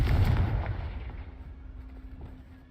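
An explosive Confringo spell from the video game Hogwarts Legacy: a loud booming blast that opens the clip, then a rumbling decay fading over about two seconds with a faint lingering tone, no voices.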